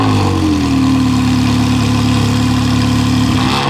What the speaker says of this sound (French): Le bruit du ralenti